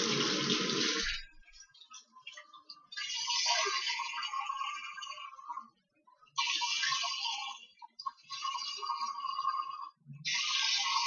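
A bathroom tap runs in repeated bursts while a face is rinsed, the water splashing close and loud, then stopping briefly between rinses.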